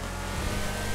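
A luxury car's engine revs in GTA 5, a loud, close, sustained engine drone with a low rumble that builds briefly mid-way, alone without talk.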